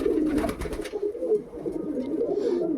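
Pigeons cooing steadily at close range, their low throaty calls overlapping in a continuous rolling murmur with no talk.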